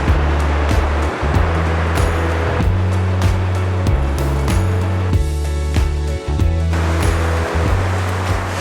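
Upper Yosemite Falls in Yosemite National Park, about a quarter mile away, gives off a steady, loud rushing roar of falling water that barely changes, mixed with gusting wind.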